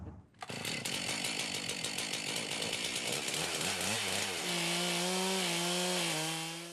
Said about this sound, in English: he gets that chainsaw